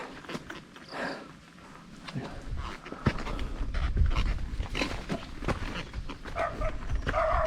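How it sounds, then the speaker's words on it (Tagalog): A dog on a hillside trail panting and moving near the listener, with rustling steps and scattered crunches on the path, all of moderate loudness. "May aso na naman sa taas."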